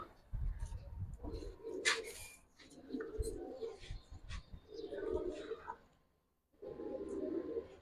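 Pigeons in a loft of army and coloured breeds give soft, low rolling coos in four spaced bursts, with light rustling between them at moderate distance.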